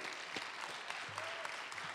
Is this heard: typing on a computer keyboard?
no